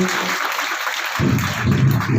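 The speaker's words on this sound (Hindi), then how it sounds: "जोरदार तालियां होनी चाहिए हमारी उपलब्धियों के लिए" Applause from an audience at a school's annual function in Mavli, a burst of dense clapping that swells after a brief quieter moment and carries on steadily, fairly close and loud.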